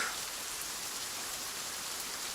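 Steady rain falls, a dense even hiss of drops on surfaces that holds for a couple of seconds, with no voices.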